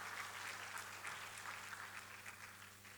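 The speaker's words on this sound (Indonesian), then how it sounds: "Tepuk tangan buat semuanya." Audience at a storytelling festival semifinal opening clapping for the contest participants, a fairly faint, steady patter of many hands with a low hum beneath, tapering slightly toward the end.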